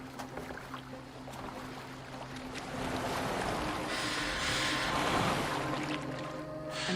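A boat glides across the water in Assassin's Creed Valhalla, a continuous wash of waves and rushing water that swells louder toward the middle, with a low steady hum underneath and no talking.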